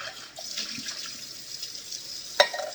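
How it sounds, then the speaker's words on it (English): Tap water runs steadily into a sink while a pan is rinsed during cooking, a close hissing flow with a brief clank of metal near the end. "I'm just going to rinse the pan so that when I recycle them"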